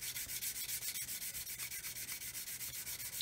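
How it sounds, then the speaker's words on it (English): A sanding stick used on a Roden C-141B Starlifter scale model gets rubbed clean against denim jeans in quick, even back-and-forth scrubbing strokes, close and quiet, with no voices. "I'm just going to give it a clean off on my jeans."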